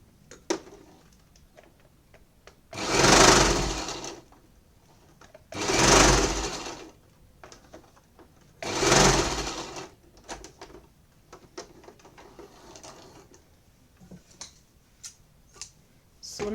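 A sewing machine stitching gathers runs in three short whirring bursts of about a second and a half each, separated by pauses filled with small ticks and handling clicks.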